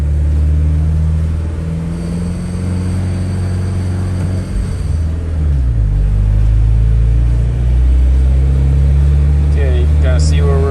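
Small-turbo Honda S2000 being driven, a loud engine note rising and falling through revs with whining harmonics, close and steady, with a brief sharp burst near the end.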